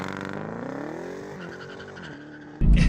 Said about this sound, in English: This car has a cool line lock feature so that you can warm your tyres for drag racing.